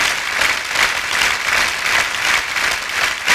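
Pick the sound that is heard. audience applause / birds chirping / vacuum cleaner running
audience applause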